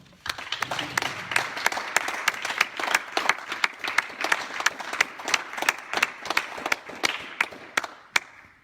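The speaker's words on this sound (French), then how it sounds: "je voudrais que vous les applaudissiez encore" Rhythmic applause at a municipal council session after electing the mayor and deputies, the crowd clapping in unison with sharp regular beats over a looser patter of hands.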